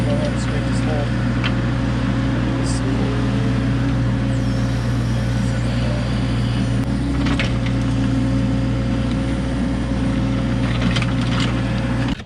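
A small excavator's diesel engine drones steadily and loudly while the bucket scrapes a shallow trench hole about six inches deep, searching carefully for buried utility pipes.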